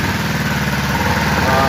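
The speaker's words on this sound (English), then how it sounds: "that's why it's idling a little funny right now" A Kawasaki Ninja 500R engine idles in a dune buggy after long storage, with its air box not yet properly fitted: a loud, steady, close mechanical rumble with a slightly uneven pulse throughout.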